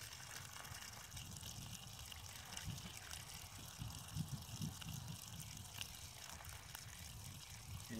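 Water gushing and gurgling steadily as a bell siphon drains its tank, a continuous mid-level rushing with faint bubbling pulses throughout.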